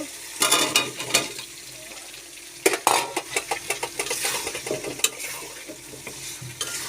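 Potatoes dropped into a pan of tomato paste and frying, with a loud sizzle and bursts of clattering as a utensil scrapes and tosses them, close up, over a steady background hiss.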